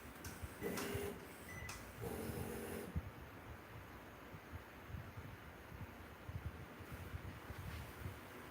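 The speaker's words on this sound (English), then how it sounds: "A direct-to-garment printer only gets better as you print more and more with it." A direct-to-garment printer works through a t-shirt print job, giving mechanical whirring with a couple of short motor bursts early on, then a steady quiet hum and faint rustle, close and alone.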